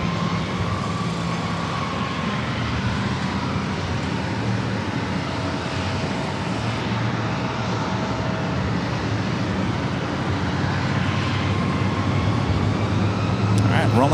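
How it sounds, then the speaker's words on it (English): A Boeing airliner rolling down runway 27 at San Diego airport for takeoff, a steady broadband engine roar heard from a distance that stays constant and continuous throughout. "Rolling down the runway 27."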